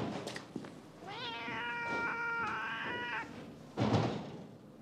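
A cat gives a drawn-out, wavering meow in a quiet room, fairly close, followed by a short soft rustle or thump.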